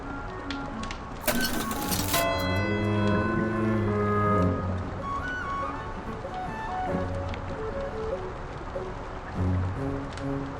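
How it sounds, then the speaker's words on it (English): A clock chimes in the Lord Winklebottom Investigates video game, its ringing tones sustaining for a few seconds after a sharp onset, with softer game sounds around it. "If I turn the hands, I can make the clock chime."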